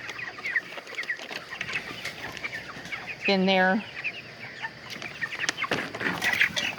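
Broiler meat chickens cluck and murmur in a barn as a farmer walks through the flock, a steady close chorus of soft calls with one brief louder squawk, and someone talks over it.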